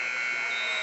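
Final buzzer at a high school basketball tournament game between Fairfield and Herrin, a steady, loud electronic drone held for the whole moment, with no other sound standing out.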